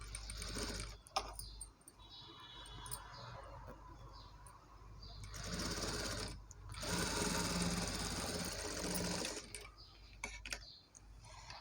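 Sewing machine stitching a Punjabi dress top, a steady mechanical whirr that runs in bursts, slowing and pausing at the turns and joints, close up with occasional small ticks and clicks.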